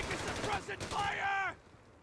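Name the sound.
suppressing machine gun fire in the video game Company of Heroes 3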